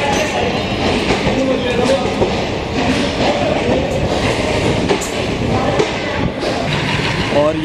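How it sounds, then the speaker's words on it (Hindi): The Punjab Mail express train pulls out of Ferozepur Cantt railway station, its cars rumbling and thumping with scattered clacks and squeals close by, while people talk over the steady rolling noise. "बिल्कुल परफेक्ट टाइमिंग के साथ पंजाब मेल डिपार्चर ले रही है फिरोजपुर कैंट रेलवे स्टेशन से"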